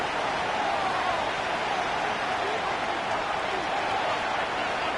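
Stadium crowd in a Madden football video game, a steady, loud roar of cheering that holds for the whole stretch before a third-and-goal play.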